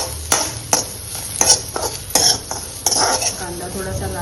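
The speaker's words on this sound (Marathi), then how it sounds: "हे कांदा असा छान लालसर पसरून भाजून घ्यायचा." Onion being roasted and stirred in a pan: a faint sizzle under sharp metallic clinks and scrapes of a spatula against the pan, coming in irregular bursts close by, with no voice.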